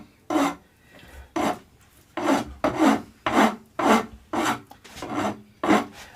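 Wood being filed by hand while shaping a bass guitar build: a run of about eight rough rasping strokes in a steady rhythm, each a short scraping burst separated by brief pauses, close and fairly loud with no talking.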